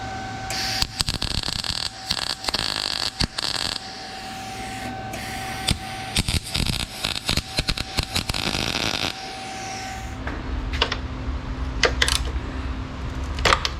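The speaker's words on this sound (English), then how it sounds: "I'm gonna weld a little bit in here because it'll make it flat" Welding on a Jeep CJ7 windshield frame, a steady crackling buzz with sharp pops that runs loud and close for about ten seconds, then gives way to scattered clicks and clanks.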